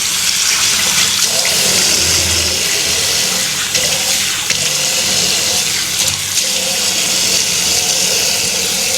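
Lukewarm water runs steadily from a tap for hand washing, a constant close rushing and splashing stream with no talking.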